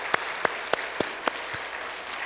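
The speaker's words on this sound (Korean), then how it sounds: "우리 지휘자님과 모든 성가대에 박수 한번 해요" A church congregation claps for the conductor and choir at a New Year revival Sunday service, a sparse run of about six separate hand claps spread across the moment, fairly close and distinct.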